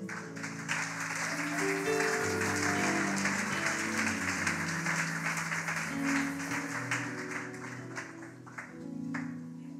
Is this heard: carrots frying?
no